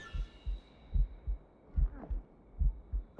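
In the video game Assassin's Creed Rogue, a poisoned character's heartbeat thumps as a deep, close, double-pulse beat repeating at a steady rhythm, loud and alone over a faint hum.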